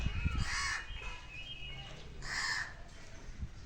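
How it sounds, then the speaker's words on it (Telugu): Crow cawing overhead in a village, two drawn-out harsh caws spaced about two seconds apart over a low background murmur. "పైన కాకి చూసినావా?"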